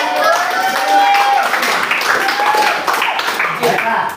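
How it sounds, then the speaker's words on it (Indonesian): A Year 9 class at a junior high school in Singkawang claps hands together after their teacher's call, a dense, loud, continuous clatter of many hands with children's voices and shouts mixed in throughout. "Kasih tepuk tangan."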